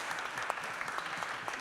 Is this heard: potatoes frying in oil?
no